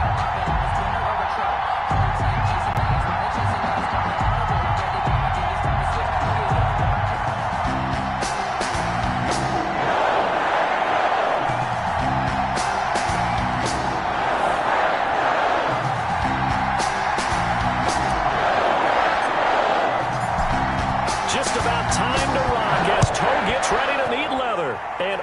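Stadium crowd roars steadily at Lambeau Field in an American football video game, Philadelphia Eagles against Green Bay Packers, a dense continuous wash of fans under a commentator's voice throughout.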